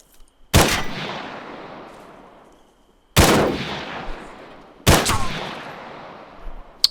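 Three single small arms gunshots in ArmA 3, fired at a stone and plaster house, each a sharp loud crack with a long decaying echo, spaced a few seconds apart.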